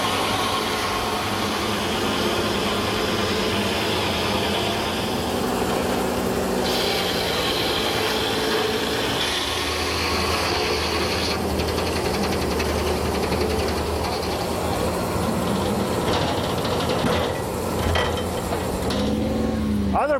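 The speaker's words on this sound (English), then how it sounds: "This carbide-tipped circular saw turns the log into a square timber." A carbide-tipped circular saw cuts a log into square timber, making a loud, sustained broadband roar that shifts in tone as the blade works through the wood.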